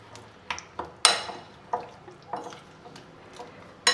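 A mushroom mixture with mustard oil and slit green chili is stirred in a pot, giving a series of distinct scraping and clinking strokes at an irregular rhythm, fairly close and quiet between hits.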